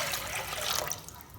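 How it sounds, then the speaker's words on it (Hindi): Tap water runs and splashes into a cooking pan on a kitchen stove, ready for boiling grated bottle gourd for raita; a steady, fairly close pour that shifts in tone partway through, with no voices. "यहाँ एक पैन के अंदर हम लेंगे पानी"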